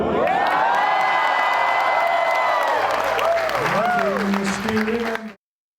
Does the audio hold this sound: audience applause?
yes